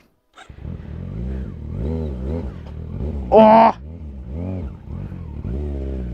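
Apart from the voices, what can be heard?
Kawasaki Z900 motorcycle revving while climbing a village road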